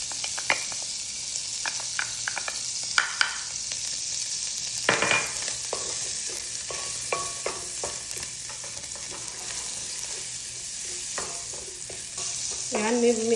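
Garlic sizzling in butter in a pan gives a steady crackling hiss, punctuated by scattered pops and the clatter of stirring, heard up close.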